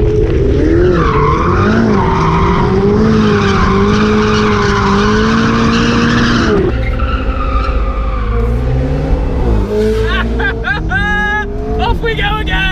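A sports car drifts on a twisting mountain road, its engine revving hard with a long steady howl, then shifting pitch as the tires skid and squeal through the slide, loud and close.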